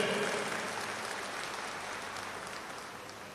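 Audience clapping at a speech event in Thrissur, a dense steady wash of applause that starts strongest and tapers slightly over a few seconds, with no voices on top.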